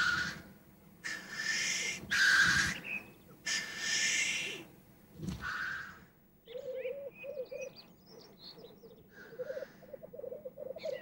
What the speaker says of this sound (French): la parade des tétralyres, dont vous entendrez les roucoulements à plusieurs centaines de mètres de distance